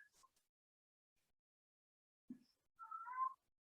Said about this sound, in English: I hope you guys can't hear the angry cat outside my door